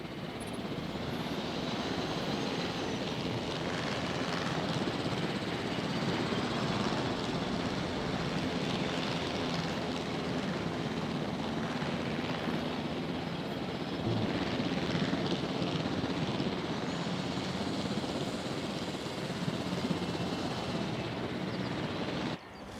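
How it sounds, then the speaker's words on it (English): A helicopter hovers and flies over a dinosaur park in Jurassic World Evolution, a steady, loud rotor and engine drone running unbroken throughout with no voices. "Let's grab helicopter."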